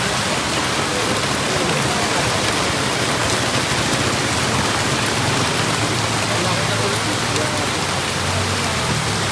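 Heavy rain pours down steadily in a dense, continuous roar, loud and unbroken throughout with no pauses.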